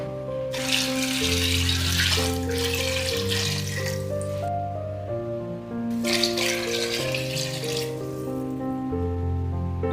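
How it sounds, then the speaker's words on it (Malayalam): Water pouring into a pot for chicken maqluba, a steady gushing stream in two long bursts with a brief pause between, close and fairly loud. "ഇനി നമുക്കതിലോട്ട് വെള്ളം ഒഴിച്ചു കൊടുക്കാം"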